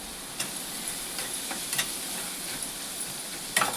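Onion softening in a pan with turmeric and salt, giving a soft continuous sizzle with a few sharp stirring clicks, close but fairly quiet, no voices.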